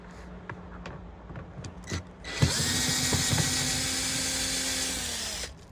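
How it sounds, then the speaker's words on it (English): A Torx T25 screwdriver backs out sun visor screws in a 2001-2013 Acura MDX: a few small ticks and clicks, then a sustained whirring buzz at close range for several seconds. "take your Torx T25 screwdriver. Okay, this is mine over here, and you just need to unscrew them"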